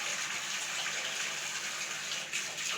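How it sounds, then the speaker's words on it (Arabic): Water gushing steadily while curtains are washed in a home, a continuous moderately quiet rush with occasional splashes. "غرقتني ميه."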